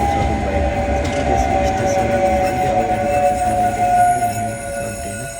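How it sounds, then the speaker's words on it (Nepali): A train travelling through a ride between Finland and Estonia gives a steady rumbling run with a sustained tonal hum, loud and continuous throughout with slight swells in level. "कति मजाको ट्रेन"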